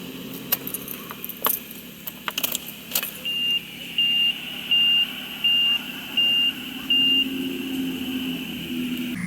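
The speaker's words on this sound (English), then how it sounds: "Turn the ignition switch to on with the new key within 20 seconds." A Honda ignition switch is turned on with a new key, giving key jangling and clicks, then a series of six evenly spaced electronic chimes over a low idling hum, close inside the car.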